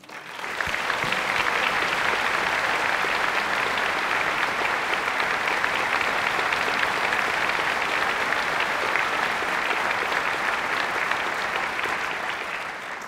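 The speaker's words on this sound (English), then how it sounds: "So please join me in giving all of our honorees another round of applause." Sustained audience applause at a Cleveland Orchestra Martin Luther King Jr. Community Service Award ceremony, a dense, steady wash of clapping from a large crowd lasting over twelve seconds, fading slightly at the end.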